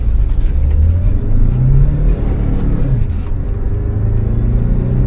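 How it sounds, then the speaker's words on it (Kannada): A diesel Hyundai Sonata accelerates through the gears with a loud, close, continuous engine rumble, its pitch climbing and then dropping at a gear change before building again. "ನೋಡಿ, ಆಲ್ಮೋಸ್ಟ್ ಸೆಕೆಂಡ್ ಗೇರ್ ಅಲ್ಲೇ 80 ಹೋಯ್ತು."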